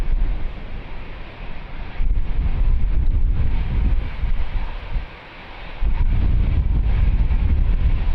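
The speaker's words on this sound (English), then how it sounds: "quite windy today, again this morning." Strong gusting wind buffets an outdoor microphone at Lisbon Airport, a continuous low roar that swells and drops in waves, easing briefly before surging loud again, with no voices.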